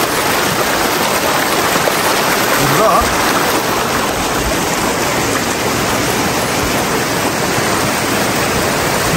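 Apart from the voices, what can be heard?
water flowing down a stream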